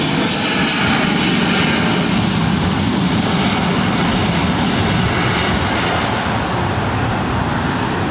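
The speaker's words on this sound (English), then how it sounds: "This is Southwest Airlines 1872 taking off to Oakland on a 737-700." A Southwest Airlines Boeing 737-700 taking off at LAX, a loud, continuous jet engine roar holding steady and close throughout, broadband and unbroken.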